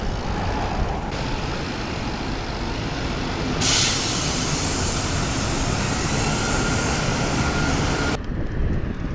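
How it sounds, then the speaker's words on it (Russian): Trams pass along a street in Krasnoyarsk, a continuous loud rolling rumble and hiss of wheels with a sudden brighter surge midway and an abrupt drop near the end. "А вот и трамвайчики."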